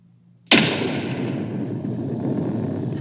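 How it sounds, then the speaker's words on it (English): A downloaded drum explosion sound effect strikes suddenly and loudly, a single boom that hits at once and then rolls on in a long, dense, noisy rumble that barely fades over the next few seconds, heard alone. "So I've got this drum explosion-y thing."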